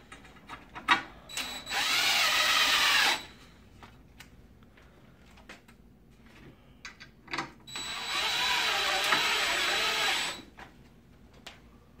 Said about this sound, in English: you would just come to the underside and screw the strap across the notch. In this case, I'm going to do it here on the table.